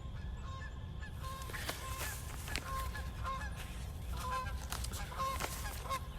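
Geese honk repeatedly in a meadow, their nasal calls overlapping in a loose, continuous chorus at moderate distance over a soft outdoor background.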